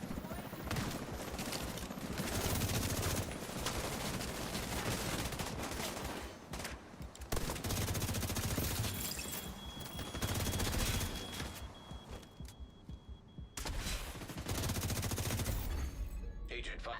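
Video game gunfire rattles in dense rapid bursts, loud and near, with short lulls between volleys and people talking underneath.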